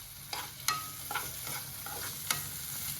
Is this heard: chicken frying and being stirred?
yes